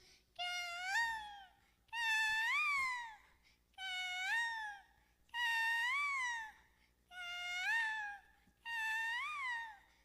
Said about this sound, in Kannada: ಸಂಜೆಯಾಗುವಾಗ ನಮ್ಮ ಮನೆಯ ಹಿತ್ತಲಿನಲ್ಲಿ ನವಿಲು ಬಂದು ಹೀಗೆ ಕೂಗುತ್ತಿತ್ತು.